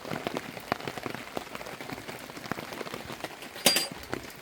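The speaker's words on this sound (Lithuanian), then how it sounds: "Pila lietutis visą naktį." Rain that has fallen all night patters on a surface outdoors, with scattered drops ticking irregularly at close range over a soft continuous wash, fairly quiet, with one sharper splash near the end.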